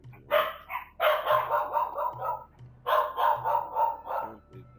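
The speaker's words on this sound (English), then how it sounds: "Oh, my dog's freaking out." A dog barks in a run of rapid, close, loud barks, two bursts separated by a short pause, over a faint low hum.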